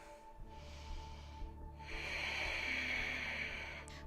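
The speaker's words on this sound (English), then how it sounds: "Take a nice connected breath here." During a vinyasa hip-opening yoga flow, a slow, airy breath is drawn in, then released as a longer, fuller hissing exhale, close and steady with no talking.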